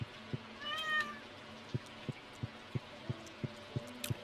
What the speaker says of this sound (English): Pet the cat.